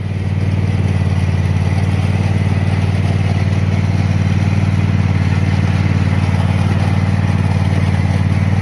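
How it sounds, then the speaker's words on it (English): A garden tractor's small engine runs loud and close with a steady low throbbing idle and rattle, holding constant throughout. "and then the garden tractor. So let's fire this beast up and see how she rolls."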